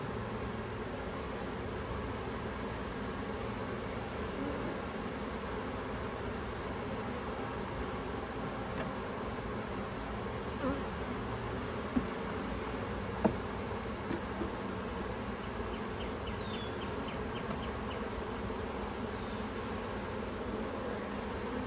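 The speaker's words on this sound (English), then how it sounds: "There's a lot of bees in here." A dense, continuous buzz of an open-air honey bee swarm hums evenly throughout, fairly quiet, with a few faint clicks and taps breaking through near the middle.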